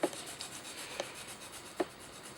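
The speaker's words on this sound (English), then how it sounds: "now just work it a little bit with the burnishing tool to spread out the bind and flatten out the thread a little bit" A burnishing tool rubbing back and forth over thread binding on a fishing rod guide, faint close scratchy strokes with three small distinct ticks spaced across a quiet background.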